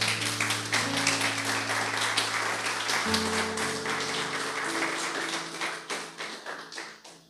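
Congregation claps during a church service, dense steady applause over sustained organ or keyboard chords, gradually fading toward the end.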